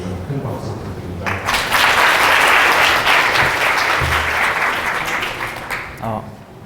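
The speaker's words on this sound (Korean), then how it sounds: "큰 박수 부탁드립니다" Sustained applause from a conference audience at a PyCon APAC 2016 talk, swelling quickly into a loud, dense wash of clapping that holds steady for several seconds before tapering off.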